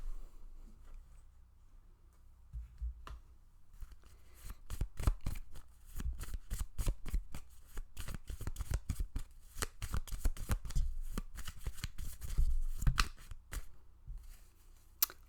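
A deck of cards is shuffled again and again close by, giving dense riffling flutters and soft snapping bursts, with short quiet gaps between them and no talking.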